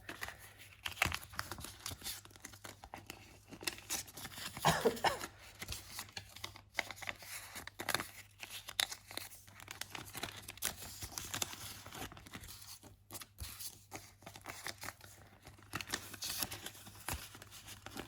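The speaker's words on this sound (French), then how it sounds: "les billets de 50, je suis obligée de les plier en 4" 50 euro banknotes being folded into four, with soft close paper crinkles and rustles in short irregular bursts over a quiet room.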